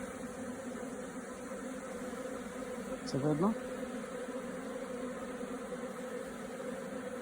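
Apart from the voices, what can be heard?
bees at a hive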